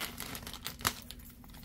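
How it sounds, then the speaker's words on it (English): Scissors snip through plastic doll packaging for a Barbie Color Reveal doll, a soft crinkling and crackling of plastic with one sharper cut partway through, heard close and fairly quiet. "Let me cut. That's why I got them handy dandy scissors, honey."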